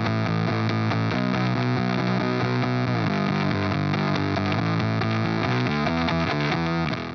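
High-gain electric guitar run through Line 6 Helix Native amp modelling with compression, playing thick, sustained distorted chords that change every second or so, continuous and loud for about seven seconds with no talking.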